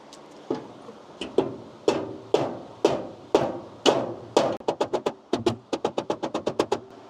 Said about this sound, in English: Let me grab my dead blow.